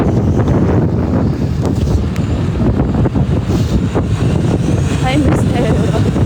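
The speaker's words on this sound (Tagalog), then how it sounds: "Ang hangin dito ba?" Strong gusty wind buffets the microphone throughout, a loud continuous roar with rough bursts, no clear voices standing out.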